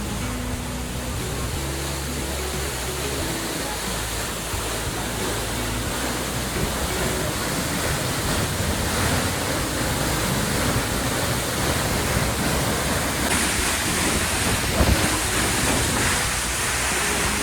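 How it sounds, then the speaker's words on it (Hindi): Tiger Waterfall at Chakrata cascades from a great height, a dense, loud, continuous roar of falling water with steady spray noise and no speech. "कितनी ऊंचाई से ये झरना गिर रहा है।"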